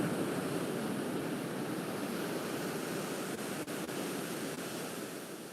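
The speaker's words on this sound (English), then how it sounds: "Waves crash in, waves crash out." Ocean surf at Newport Beach on a sunrise morning rolls in as a continuous broad wash of wave noise, steady and moderately loud with no voices.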